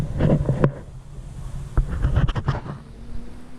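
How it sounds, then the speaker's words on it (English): Wind buffeting a microphone on a long-distance road cycling ride, gusty low rumbling bursts that rise and fall unevenly throughout, close and fairly loud. "the wind is going to be a bit of a feature today, same as it was last weekend."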